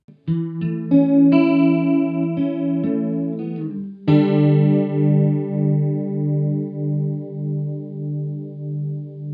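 Electric guitar played through a Digitech Luxe pedal on its detune setting: a few quick picked notes, then a ringing chord that sustains and decays with a wide, pulsing shimmer, alone and up close.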